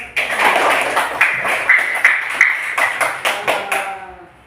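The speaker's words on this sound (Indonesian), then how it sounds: "tepuk semangat dulu. Tepuk 1, tepuk 2, tepuk 3, tepuk 4." Classroom students clap in a rhythmic spirit-clapping routine, a run of sharp, fairly close hand claps grouped in counted bursts with brief pauses, lightly mixed with a few voices.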